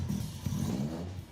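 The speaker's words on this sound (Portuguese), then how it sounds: "Eu acho que eu nunca ouvi um motor de 4 cilindros aspirado naturalmente como esse." Naturally aspirated four-cylinder Japanese engine revving nearby, a steady low throaty drone with a couple of brief swells, heard alone.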